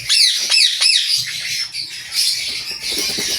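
Pallid mutation breeder birds, a blue pallid and a gray pallid, squawk and chirp in quick, loud bursts close by, with scattered calls continuing throughout.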